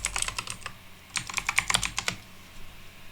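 Rapid keystrokes on a computer keyboard while a password is entered, in two close bursts of crisp clicking separated by a brief pause.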